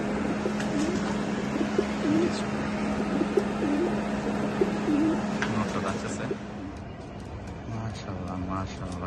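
Kamagar Kasuri pigeons cooing in soft repeated low coos over a steady hum, while someone talks over them.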